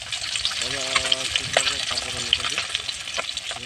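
Fish pieces marinated with salt, turmeric and chili powder fry in a pan with a busy, crackling sizzle and scattered pops, while a low voice briefly sounds in the background.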